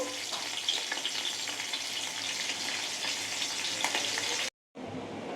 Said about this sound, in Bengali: মাছ ভাজা বসিয়ে দিয়েছি তিন পিস ভাজা করবো